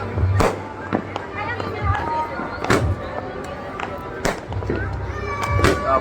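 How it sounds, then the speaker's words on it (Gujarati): Sharp Makar Sankranti firecracker bursts pop repeatedly, some near and loud, others farther off, over a steady hum and chatter of people talking. "હવે અહીંયા ફટાકડા ફૂટવાના ચાલુ થઈ ગયા છે"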